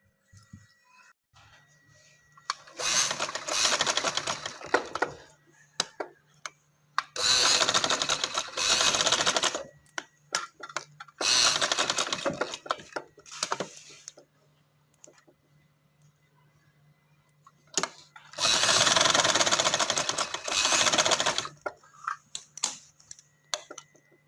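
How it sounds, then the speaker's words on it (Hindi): A sewing machine stitches fabric petals for a handmade fabric flower in four separate bursts of fast mechanical whirring, close by, with quiet pauses in between and no voices. "अब मैंने इस पे सिलाई लगानी है"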